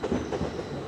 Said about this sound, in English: So that's the Bradford service departing from platform 4